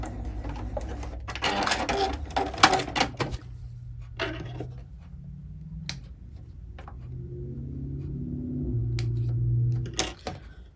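A sewing machine stitches fabric for a small sunglass pouch, running in bursts with a back stitch partway through, its motor hum and needle clatter close and steady across the clip with no talk.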